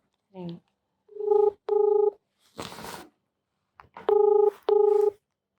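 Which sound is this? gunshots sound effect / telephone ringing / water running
telephone ringing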